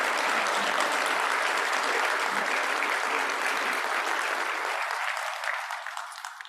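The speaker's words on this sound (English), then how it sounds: "Please join me in a round of applause to welcome our newest colleagues." Sustained applause from a large convocation audience, a dense wash of clapping that holds steady and then tapers off at the end.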